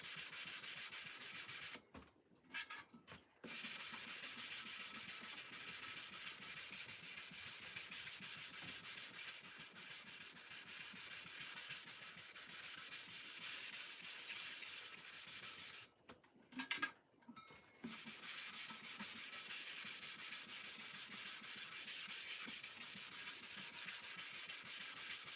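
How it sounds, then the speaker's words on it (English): Sandpaper rubbing the surface of a tumbler to prep it, a steady close scratchy back-and-forth hiss with two brief pauses. "we're going to just come in here with our sandpaper and just prep the surface"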